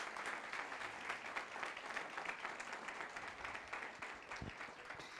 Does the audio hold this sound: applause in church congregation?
yes